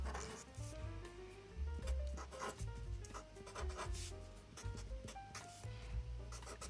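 A pen drawing a right-angled triangle on paper, with close scratchy strokes and rubbing that come in short bursts, while a person speaks over them.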